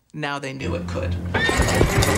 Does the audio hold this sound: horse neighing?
yes